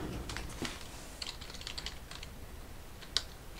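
Soft, quick typing on the keyboard of a Dell Inspiron 7706 laptop, with scattered light key taps and one sharper click near the end, quiet and close with no voices.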